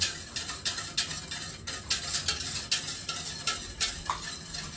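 Olive oil soap mixture stirred in a container for cold-process soap, a steady run of rhythmic scraping swishes, close and moderately loud, with no voices.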